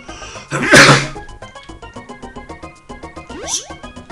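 A single sharp, loud sneeze bursts out close to the microphone amid video-game music and effects, followed by the game's tones carrying on.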